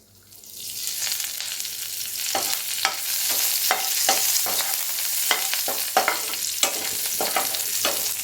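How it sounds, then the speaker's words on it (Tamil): Fennel seeds and curry leaves frying in hot oil in a pan for a prawn roast, a steady crackling sizzle with repeated sharp spitting pops and stirring clatters throughout, close by. "இப்போ சோம்பு பொரிஞ்சதும் கருவேப்பிலை,"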